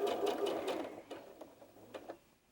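Sewing machine stitching quilt fabric for a half-square triangle block, starting on a starter cloth: a steady mechanical whir with rhythmic pulsing, loud at first and then tapering off into short intermittent bursts, no talking.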